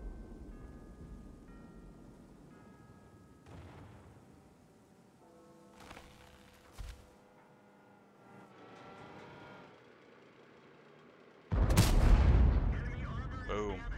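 Tank cannon fire in World of Tanks, heard as a sudden loud, heavy boom late in a stretch of quieter battle noise with faint engine drone and a few distant thuds.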